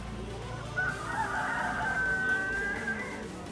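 A rooster crows at an evening market in Bali, one drawn-out crow rising over a steady murmur of background market noise, at moderate distance.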